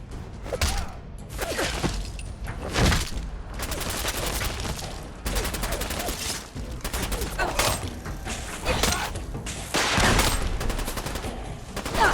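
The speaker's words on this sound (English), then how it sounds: "Opening fire." Sustained gunfire in the video game Fallout 4, with dense bursts of automatic fire and sharp individual shots crowding together at loud, close range, broken only by brief gaps.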